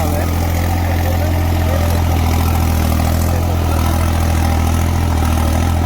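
Tractor engine running at idle during a subsoiler contest, a loud, steady low throb with a deep continuous hum, close by, with someone talking over it.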